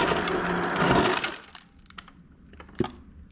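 Ice drops from a refrigerator dispenser in a penthouse condo kitchen with a loud clattering, cracking rush, then settles into a few scattered clinks and taps.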